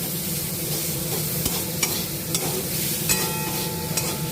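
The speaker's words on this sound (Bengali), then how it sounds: "এখানে পেঁয়াজটা ভাজা ভাজা হয়ে গেছে, পেস্টটা এর মধ্যে দিয়ে দিলাম।" Onion paste sizzles in hot oil as it is stirred, with a constant frying hiss and occasional soft scrapes and taps of the spoon, close up and without speech.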